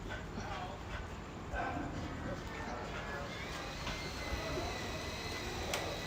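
Dogs bark in short, scattered bursts at a distance in a beach town street, partly buried under a person talking nearby and steady outdoor background noise.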